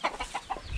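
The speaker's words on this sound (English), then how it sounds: "And this is where you keep your chickens?" Chickens in a village pen in the Philippines give a quick run of close, short clucks, four or five choppy notes in under a second.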